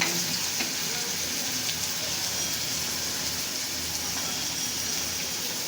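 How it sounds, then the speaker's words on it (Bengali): Chopped garlic lightly frying in oil for a pointed gourd curry, a soft continuous sizzle with faint crackling, fairly quiet and steady throughout. "রসুন কুচানো রসুন দিয়ে দিই। বেশি ভাজবো না, হালকা ভাজবো।"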